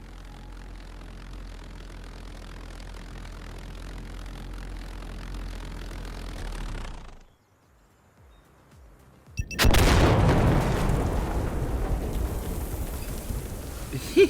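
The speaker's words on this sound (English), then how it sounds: "they have fully programmed the infamous German V1 flying bomb" A German V1 flying bomb in the Insurgency: Sandstorm WW2 mod drones steadily overhead, cuts to near silence, then a loud blast erupts and rumbles on at length.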